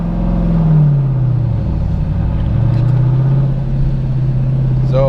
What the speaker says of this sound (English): the car is going to roll back if you don't get that right foot over to the gas fast enough